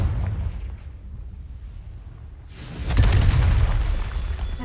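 A Confringo fire spell blasts in Hogwarts Legacy, a loud booming burst arriving midway after a quieter rumbling stretch, followed by a sustained crackling roar.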